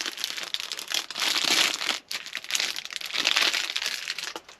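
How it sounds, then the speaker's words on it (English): Plastic wrapping crinkles and crackles continuously as a Baofeng UV-5R+ handheld radio with a camouflage finish is pulled out of its bag, two sustained bursts of rustling separated by a brief pause, close and fairly loud with no talking. "Let me just pull this out of the"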